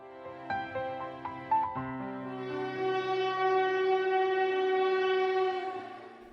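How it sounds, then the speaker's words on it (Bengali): A train whistle sounds at a railway station as a long, steady tonal blast that swells and holds for several seconds, preceded by a few shorter tones. "স্টেশনে ট্রেনের ভেসেল বেজে উঠল"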